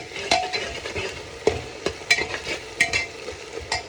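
Onions fry in a pan being browned, with scraping stir strokes and clinks of a spoon against the pan over a soft steady sizzle, close by and without voices.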